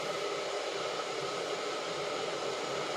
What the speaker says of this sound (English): I'm just waiting now for the water to cook.